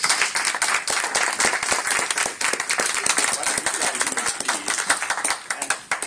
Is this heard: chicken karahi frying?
no